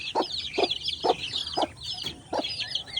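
Bulik Texas chickens cluck close by in a steady rhythm, about six short, sharp clucks spaced evenly, with softer bird chatter underneath.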